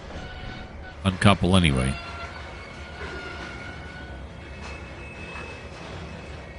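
A train braking in Trainz 2022 gives a low, steady rolling rumble with a brief screeching, squealing burst in the middle, while someone talks over it.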